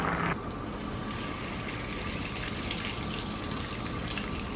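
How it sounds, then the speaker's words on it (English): Tap water gushes steadily into a cooking pot being rinsed, a loud continuous close splash with a brief brighter burst at the start. "I need to rinse the pot before I start cooking"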